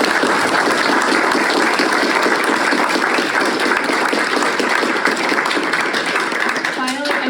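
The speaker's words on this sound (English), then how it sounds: "join me in giving our wonderful panelists a round of applause" A crowd applauds a panel at a public transportation talk, dense clapping that stays loud and even for several seconds before easing slightly at the end.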